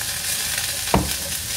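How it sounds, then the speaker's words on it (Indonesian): Ground spice paste frying in a super thin wok over low heat: a steady close sizzle with a brief sharp clatter of stirring midway. "Ini saya memasukkan bumbu yang sudah saya ulek tadi."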